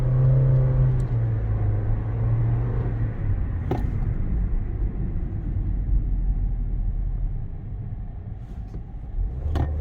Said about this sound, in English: there's a car behind us